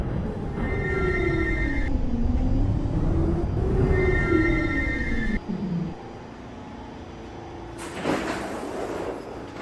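Inside an R46 subway car on a B train, a low two-tone door chime sounds twice over steady rumbling rail noise, followed by doors sliding shut and the train's hum and clatter continuing.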